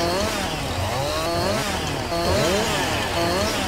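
A chainsaw cuts wood in the farming game Farming Simulator 19, its engine whining and bogging in repeated rising and falling strokes, close and loud throughout with no talking.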